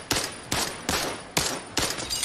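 Five sharp gunshots crack out in an irregular burst in a shooting video game, each loud and close with a short decaying tail.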